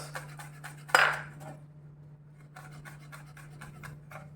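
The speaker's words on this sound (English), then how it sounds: "once you chop this, keep this on the same cutting board" A knife chops squid on a cutting board in a home kitchen, making a steady run of light, rhythmic taps with one sharper knock near the start, all over a constant low electrical hum.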